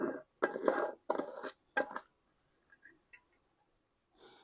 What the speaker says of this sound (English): All right, so we're going to add our lid on.